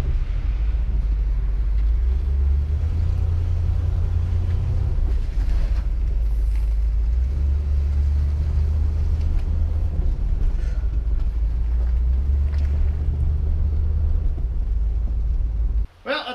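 A 1969 Lincoln drives along with a steady low engine rumble and road noise up close, with a few faint knocks and clunks, after its brakes were bled.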